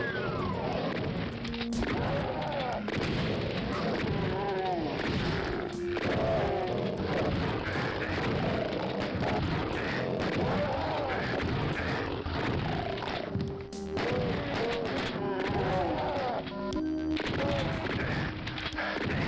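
Rapid chain gun fire in the Chex Quest / DOOM game series, mixed with dense game effects, crashes and music, running loud and continuous throughout with a few brief gaps.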